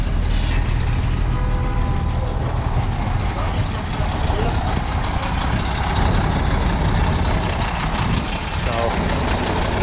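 A truck idles while blocking a crosswalk on 42nd Street in Manhattan, its driver's door open. A steady low engine rumble sits within dense city street noise, and someone talks over it.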